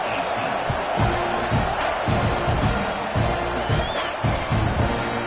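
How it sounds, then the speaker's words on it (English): Football stadium crowd at a Georgia versus Texas game buzzing after a score, a dense steady roar of many voices with scattered thumps, under a commentator talking. "this crowd is buzzing after that last score"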